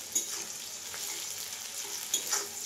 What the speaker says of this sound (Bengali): এইভাবে আমি একটু লাল লাল করে ভাজবো